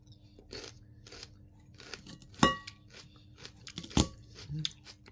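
Crunchy celery being chewed up close, with irregular crisp bites and a couple of sharp louder crunches between softer chewing, fairly quiet with no talking.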